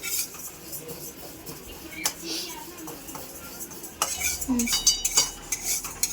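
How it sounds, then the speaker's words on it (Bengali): A utensil scrapes and clinks against a pan while moong dal is lightly dry-fried and stirred, with irregular metallic strokes that grow busier and louder toward the end. "মুগের ডালটা ভেজে নেবো হালকা করে বেশি ভাজবো না"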